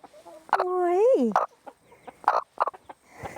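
Friendly farm hens cluck and give a rising, drawn-out squawk while being petted and handled, close and clear, with short clucks following; someone speaks briefly in French.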